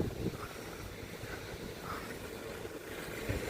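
Strong wind roars steadily across the microphone by the sea with the tide rolling in, a constant low rumble with no pauses throughout.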